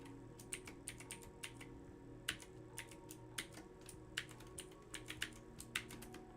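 Fingers tapping steadily on a computer keyboard in a home lab, bursts of clicks at an irregular rhythm over a constant low hum of fans and machines.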